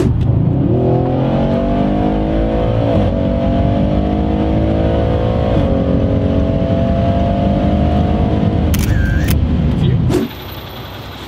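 An APR-tuned Audi RS6 C8 accelerates hard, its engine note loud, steady and close as it climbs through the revs for about ten seconds. It then cuts off abruptly, leaving quieter background noise.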